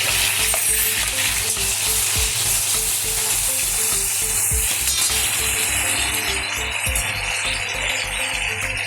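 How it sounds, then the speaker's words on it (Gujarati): Pigeon peas (toor) and papdi beans sautéing in a pan for Gujarati undhiyu give a loud, steady sizzle with soft stirring scrapes and low periodic thumps throughout, no voices. "તો ચલો સાતળીએ. સૌ પ્રથમ આપણે તુવેર નાખીશું, પછી પાપડી નાખીશું,"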